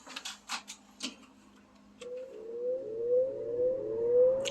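A Kenmore 14-inch box fan with a one-piece stamped steel blade set starts with a few soft clicks, then a motor whine rises steadily in pitch as the blades spin up, quiet and close.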